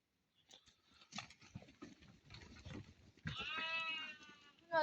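Sheep and two rams in a pen make soft shuffling and patter, then a clear, loud bleat rings out near the end, close by.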